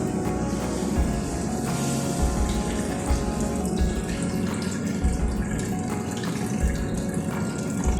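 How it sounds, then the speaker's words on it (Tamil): Tamarind water poured into a crab curry masala, a steady splashing, trickling pour running continuously up close for about eight seconds with no talk. "அந்த புளி தண்ணி இதை கூட ஆட் பண்ணிக்கலாம்."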